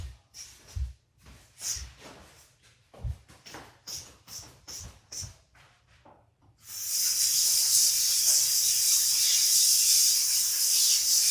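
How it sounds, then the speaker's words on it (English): Tap water at a kitchen sink starts partway through and runs as a steady close hiss for hand washing, after a run of quieter handling knocks and clatter. "Let me just wash my hands."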